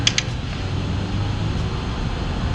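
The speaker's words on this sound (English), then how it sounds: "You can hear the engine there." Volkswagen Touran TDI with a manual gearbox accelerating in the BeamNG driving game, a steady low engine drone held close throughout with a couple of faint clicks at the start.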